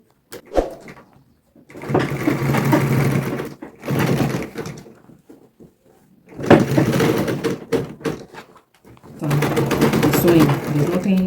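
Sewing machine stitching a crescent-shaped mini bag, running in several bursts of a few seconds each with short pauses between, fairly close, while a person talks over and between the runs.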